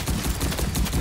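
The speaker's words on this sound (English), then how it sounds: "Machine gun through this." Rapid machine-gun fire in the video game Welcome to ParaDize, a dense continuous burst of overlapping shots with a steady rattling rhythm, loud and close throughout.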